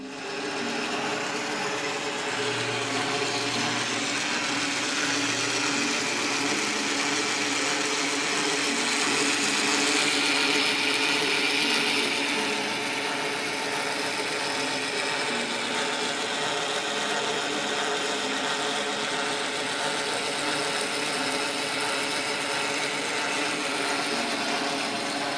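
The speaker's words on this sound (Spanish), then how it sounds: "este sistema de poleas hace que funcione este torno y también funcione esta sierra wincha" A workshop pulley system drives a lathe and a band saw, giving a steady, continuous mechanical whir and hum that stays at an even level throughout, with no talking.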